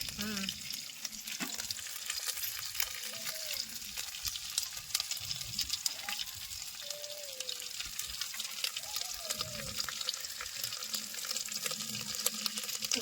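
Dry mutton fry being stirred in a pan as its juices release, with a steady sizzle and occasional scraping from the stirring throughout, plus a little water splashing in a busy outdoor kitchen.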